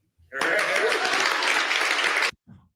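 A crowd at a Canadian campaign rally breaks into loud cheering and applause, a dense roar lasting about two seconds that cuts off abruptly, followed by a brief faint sound.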